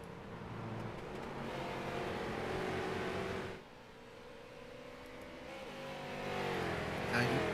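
Street stock race cars roar around Watkins Glen International, a steady engine drone that dips briefly then swells again as revs climb, heard from a distance without voices.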